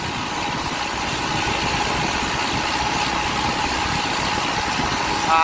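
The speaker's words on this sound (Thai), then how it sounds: "เสียงเครื่องอาจจะดังหน่อยครับ" A boat engine runs steadily at a loud, close level throughout, a continuous droning rumble with wind-like broadband noise, heard on the water during an ash-scattering ceremony.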